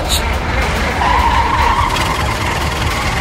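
Car tires skidding and squealing as a car speeds away, a loud close screech over engine noise that lasts the whole span.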